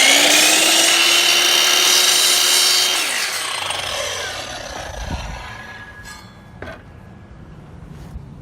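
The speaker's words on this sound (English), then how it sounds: "And now just go ahead and make the 45 degree cut." A miter saw makes a 45 degree cut through a wooden handrail for a concrete-surface installation: a loud steady motor whine and cutting roar for about three seconds, then the blade spins down, ending in a couple of faint knocks.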